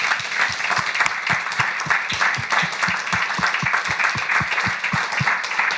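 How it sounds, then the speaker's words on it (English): An audience claps after a panel talk on the global economy, a steady round of applause with some sharp individual claps standing out close by. "Please join me in giving a big round of applause to Linda and Paul"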